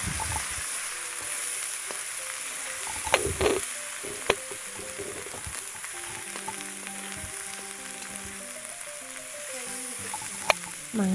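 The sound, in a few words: ground spices frying in oil in a kadai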